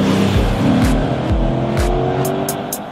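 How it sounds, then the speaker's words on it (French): Lexus RC F V8 engine accelerating hard through several quick upshifts, a loud deep roar with rising revs broken by gear changes, heard close with faint high clicks at the end. "Le V8 Lexus chante juste,"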